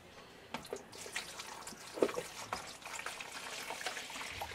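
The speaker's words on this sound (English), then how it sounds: "pour some water right in there" Water poured into a rainbow boa enclosure, a quiet trickling and splashing with a few soft drips and knocks, heard close and faint.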